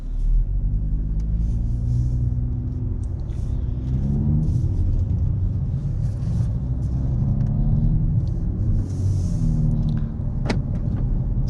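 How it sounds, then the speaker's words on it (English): A Nissan Z sports car pulls out onto the road: a steady low engine rumble and road noise from inside the cabin for the whole stretch, with a faint click near the end. "taking off the Nissan Z, let's go ahead and put it in drive, and we'll take her out on the road"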